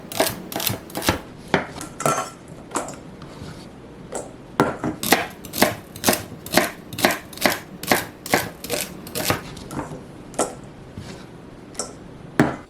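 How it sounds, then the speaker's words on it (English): A knife rough-chops washed, trimmed celery ribs on a cutting board, producing a close series of crisp, fairly regular thuds with a few brief pauses. "we're doing a couple ribs of celery, washed, dried, and trimmed, and those are going to get a simple rough chop as well"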